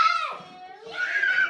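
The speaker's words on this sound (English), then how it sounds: "You hear them screaming and running?" Children scream and shriek in play during a game of hide and seek indoors, with high excited voices rising and falling at moderate distance.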